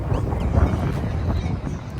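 Wind gusting across Sydney Harbour, a low rumbling buffet against the microphone that holds steady and loud for the short stretch with no clear voices.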